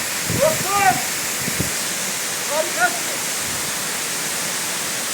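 Gürgüre waterfall near Yukarı Civanlı village pours down as a steady, loud broadband rush, with brief voices and shouts rising over it near the start and again midway.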